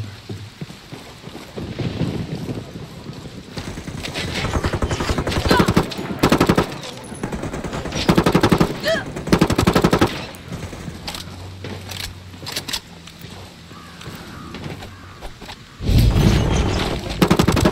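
Automatic gunfire in the video game Ghost Recon Wildlands, bursts of rapid shots over steady wind and engine rumble, loud at first, easing in the middle, then swelling again toward the end.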